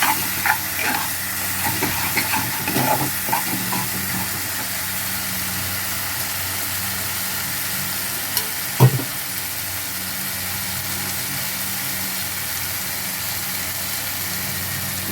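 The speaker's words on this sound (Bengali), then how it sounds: "তো এই মিক্সচারটা আমি দিয়ে দিচ্ছি এখন। দিয়ে এবার ভালো করে কষিয়ে নেব।" A mixture of turmeric, coriander, cumin and chilli powder fries in a hot pan with a steady, even hiss, and a few light clinks near the start.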